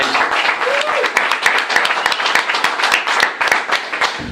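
Crowd at a Frederick chamber of commerce event applauds its caterer, JoJo's Restaurant and Tap House, with dense steady clapping filling the whole stretch, fairly loud and close, a brief voice-like tone rising early on.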